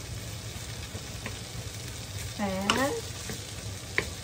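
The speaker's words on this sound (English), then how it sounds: "Toast the rice and everything properly." Rice coated in chili paste toasting in a pan for tom yum fried rice, with a soft continuous sizzle and the scrape of stirring. A brief voice is heard partway through.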